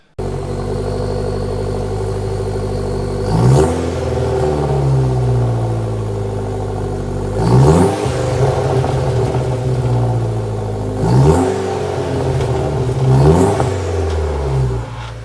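A turbocharged Chevy Cruze engine with a turbo-back exhaust revs repeatedly, rising and falling in pitch several times over a steady idle, loud and close, with no talking.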